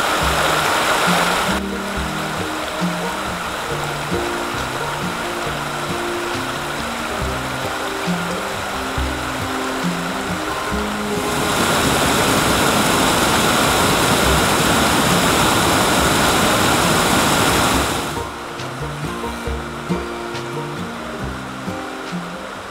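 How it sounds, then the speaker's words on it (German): The Rötelmoos mountain stream in Upper Bavaria rushes through its gorge, a loud continuous roar of water close by that swells louder midway, with some low rhythmic background sound at the start and end. "Dadurch fließt der Rötelmoos-Bach, der dann später in die Urschlauache hineinfließt."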